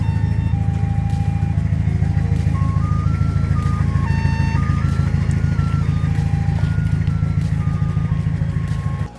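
An abandoned Bozosuko car reverses, its steady engine drone running loud and continuous beneath a repeating melodic electronic chime that plays over it.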